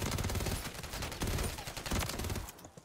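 Rapid bursts of automatic gunfire from a ranked video game match crackle almost continuously. The volleys are loud and dense before they trail off at the end.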